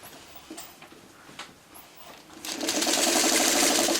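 Quilt block pieces for a coffee pot block are sewn on a machine that starts up after a few soft clicks and handling taps, then runs with a fast, steady whirring rattle close by.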